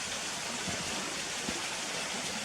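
A waterfall rushes steadily in a broad, even roar of falling water, continuous and close with no voices.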